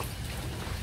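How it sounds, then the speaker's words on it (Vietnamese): Steady, dense rain falls and patters on nearby surfaces during a flood-season fishing trip, a constant close hiss with no voices. "Mưa."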